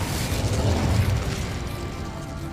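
A fiery Incendio spell blast in Hogwarts Legacy, a dense rumbling burst that peaks early and then rolls on as a sustained roaring whoosh, loud and close, with no voices.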